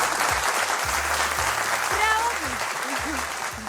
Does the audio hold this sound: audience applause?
yes